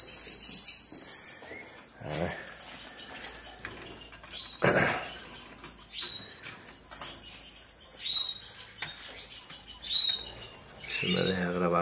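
Normal-coloured agate canary chirping in a dim indoor cage, with a string of short high tweets and calls spread across the stretch amid some rustling and flapping, fairly close and moderately loud.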